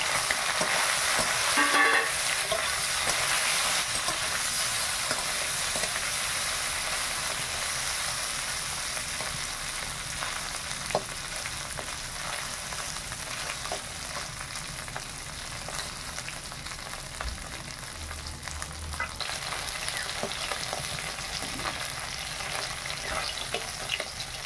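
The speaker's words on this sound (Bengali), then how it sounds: "তেল গরম হয়ে গেছে, এবার মাছগুলো দিয়ে দেব।" Fresh fish fry in hot oil in a wok with a dense, continuous close sizzle and occasional stirring scrapes throughout, and no talk.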